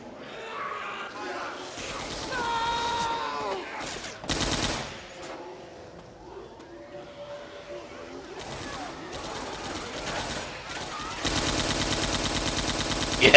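Rapid automatic gunfire in Left 4 Dead 2, a weapon with infinite ammo firing in loud bursts amid shooter-game effects and a person's voice, ending in a sustained stretch of dense continuous fire.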